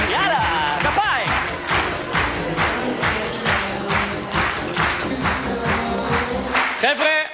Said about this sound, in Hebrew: יאללה, כפיים!